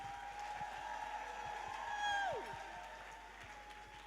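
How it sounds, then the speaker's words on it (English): An audience at a Flourish Africa 5th anniversary and grant award ceremony gives faint applause and scattered cheers for the Flourish Africa women, with a high whistle-like tone sliding over the clapping. "please put your hands together for these Flourish Africa women"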